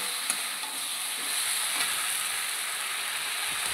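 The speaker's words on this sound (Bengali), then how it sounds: "লঙ্কা বাটা দেবো, একটু ভেজে নিই, তারপর দেবো।" Chilli paste with ginger, cumin, onion and garlic frying in a pan, giving a steady close hiss and sizzle that carries on without a break, with no voices over it.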